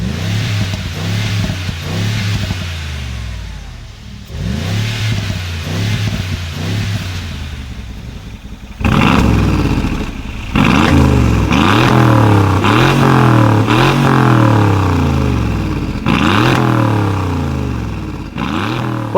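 Two Mercedes G63 AMG engines, a 2016 and a 2022 model, revving hard in turn, loud close-up blips rising and falling repeatedly, the second stretch deeper and more forceful with crackling overrun.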